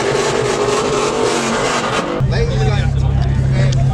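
An Infiniti G37 at a car meet runs loud and close, its exhaust roaring with crackling pops, then dropping to a deep steady rumble partway through as people talk nearby.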